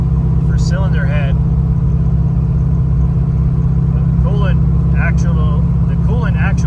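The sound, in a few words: Godzilla-swapped Ford Foxbody engine under throttle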